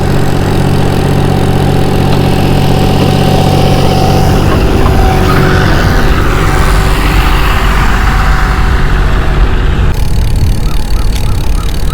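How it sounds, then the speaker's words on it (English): A loud, steady lawn mower drone dominates throughout, running continuously with a low rumble and little variation. "Mowing grass."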